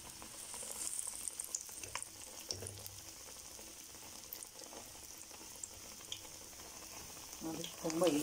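Lentil masala vada patties fry in hot oil with a steady, soft sizzle and bubbling throughout, heard close by, with a slight rise in crackle near the end.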